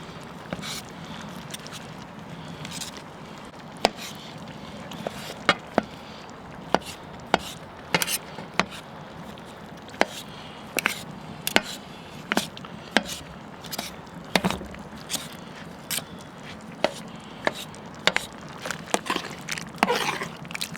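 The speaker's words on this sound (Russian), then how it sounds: "Просто их надо чуть-чуть вот так нарезать." Knife chopping canned vegetables on a board while cooking Italian-style navy pasta, a long run of sharp, irregular taps close by, some quick clusters, over a steady low kitchen hum with no talk.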